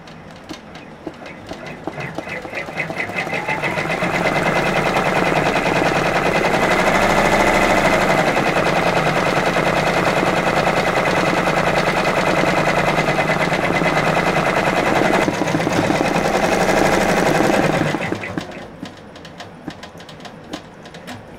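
Brother PR655 embroidery machine stitches out a design, a fast, steady, close rattling hum that runs continuously for most of the span before stopping.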